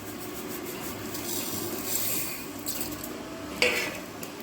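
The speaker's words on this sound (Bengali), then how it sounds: "এগুলোকে আমি শুকনো খোলায় ভেজে নেব" Whole black cumin, cumin, fennel seeds and black peppercorns are dry-roasted in a pan, giving a soft continuous scraping and rustling stir with a faint sizzle and one sharper clink of the utensil against the pan.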